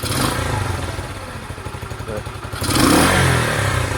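A Sinnis SC125 125cc motorcycle engine revs on the throttle, a steady loud drone that swells louder near the end, with no talk over it.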